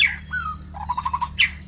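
A white-rumped shama calls alone: a few sharp whistled notes, then a quick run of repeated chirps, ending with a bright squawk, close and clear.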